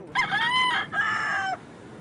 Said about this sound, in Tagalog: at pagtilaok ng manok.